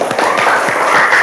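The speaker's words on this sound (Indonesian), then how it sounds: "Oke, tepuk tangan." Applause rises from an audience at the close of a talk, a dense, steady wash of many hands clapping at fairly close range that carries through the whole short stretch without voices on top.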